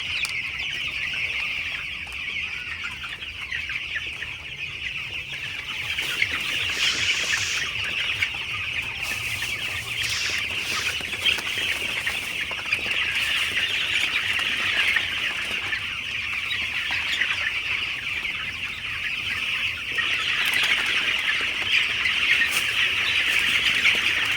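A dense chorus of broiler chicks chirps continuously in a poultry shed after vaccination. The high-pitched peeping overlaps steadily and stays fairly loud and close throughout, with no talking.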